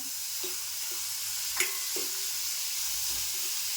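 Green chillies and garlic fry with onion in hot oil, giving a steady, close sizzle throughout, with a few soft clicks of stirring on top.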